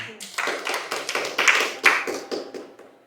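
Scattered, uneven hand clapping from a religious gathering's audience, a few sharp irregular bursts rising and falling, moderately close and fairly light rather than a full roar.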